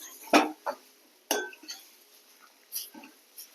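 A spoon scraping and clinking against a pan while stirring potato masala, with a few sharp, faint metallic taps spaced irregularly over a quiet background.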